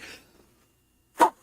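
A single sharp sneeze bursts out near the end after a faint breathy sound and near silence, close and sudden, during a tabletop roleplaying podcast.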